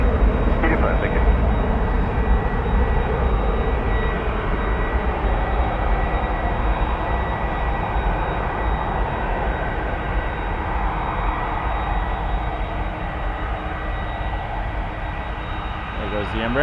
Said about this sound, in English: There goes the Embraer.